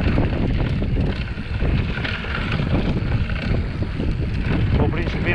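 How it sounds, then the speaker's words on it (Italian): Wind blowing during a mountain bike ride on a dirt trail, a constant loud rushing roar buffeting the microphone, steady with slight surges and no clear talk. "ha alzato ora un filino di vento come al solito"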